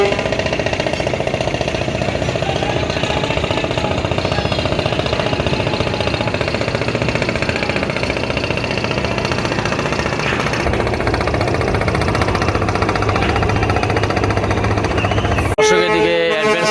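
Engine of the MV Manami, a passenger launch ferry running from Barisal to Dhaka, a steady loud mechanical drone with rapid knocking pulses that continues without a break, with a brief sharper noise near the end.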